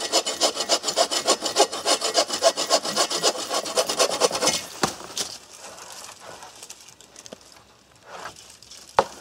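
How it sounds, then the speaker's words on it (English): A hand saw, its blade coated with WD-40, rasps through a tree in quick, rhythmic back-and-forth strokes for about five seconds, then stops, leaving faint outdoor ambience and a few light knocks. "coat our blade with some WD-40. It'll make this entire process of sawing through this a whole lot easier"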